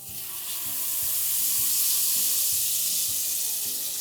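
Wet spice paste dropped into hot coconut oil already tempered with mustard and fenugreek seeds for a potato curry, giving a loud, steady hiss and sizzle that swells and holds throughout, with faint stirring clinks underneath.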